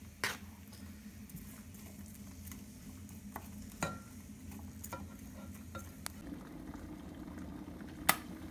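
Soup in a pot on the stove bubbling at a low steady boil, with soft patter and occasional sharper clicks and knocks from the pot, fairly quiet.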